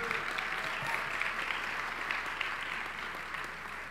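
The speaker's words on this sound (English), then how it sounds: "we give a round of applause for the First Lady of the City of Chicago" Sustained applause from a crowd at an interfaith breakfast honoring the First Lady of Chicago, an even wash of clapping that slowly fades toward the end.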